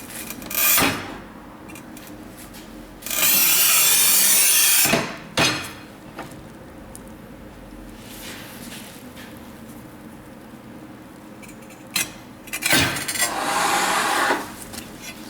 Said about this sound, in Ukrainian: Той самий керамограніт, товщина 10 мм, вже плиткоріз Stark МТС 1000.